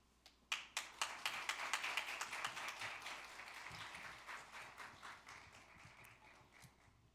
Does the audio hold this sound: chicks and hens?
no